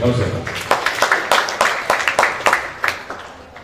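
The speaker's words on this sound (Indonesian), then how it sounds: "Kita berikan tepuk tangan untuk presenter kita, Ijul Fridar." An audience claps for the presenter at a talk show during a literary festival in Aceh Utara, a steady run of close, fairly loud hand claps lasting several seconds.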